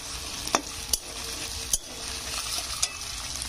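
Soaked chickpeas stirred in a pan, a steady sizzle broken by four sharp scrapes of the spoon against the metal, close and moderately loud with no talking.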